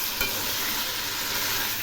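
Sweet pumpkin pieces sizzling in oil while being stirred, a dense, continuous crackle close to the microphone with a faint scrape of stirring and no voices.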